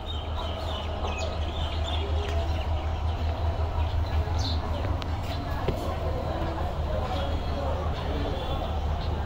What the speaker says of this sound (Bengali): এই যে মেট্রো যাচ্ছে।